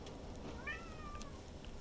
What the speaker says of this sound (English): There's a screaming kitty.